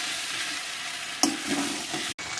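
Potatoes and cauliflower fry in a spice paste in a pan, giving a close, steady, loud sizzle with a stir or clatter partway through.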